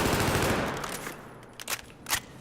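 ACWR rifle in Battlefield 4 firing while aiming down sights, a fast automatic burst that tapers off, followed by a few separate single shots, no talking.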